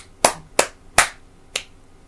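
Four sharp, separate hand claps with uneven spacing, close and dry, from hosts opening the first episode of a talk podcast.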